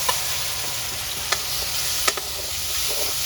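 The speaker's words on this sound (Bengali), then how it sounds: "মশলাটা ভালো করে ভাজা নি।" Ground coriander, cumin and chili cook with onion in a pan for a toor dal fish dish, making a constant sizzle with a couple of brief spatula taps, and no voices.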